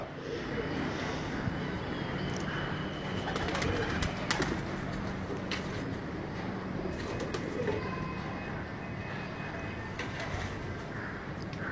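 Teddy-breed pigeons in a Karachi pigeon-keeping loft coo softly against a constant background hum, with faint scattered calls and rustles, low and unhurried.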